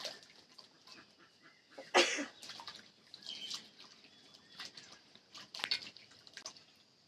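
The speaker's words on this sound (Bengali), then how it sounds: "কেটে রাখা লাল ডাটাগুলো ধুয়ে নিচ্ছি।" Cut red amaranth stalks are washed by hand in water, with quiet splashes, drips and a few sharper sloshes scattered over a low, close background.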